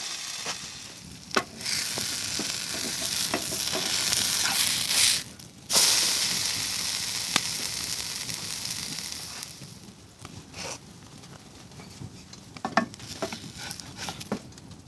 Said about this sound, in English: Just toss that into the pan.